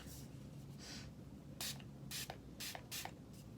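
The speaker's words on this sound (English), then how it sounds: "And I'm going to spray it." Several short bursts of setting spray hissing from a nozzle, close up, with a quick cluster of three or four sprays after a pause.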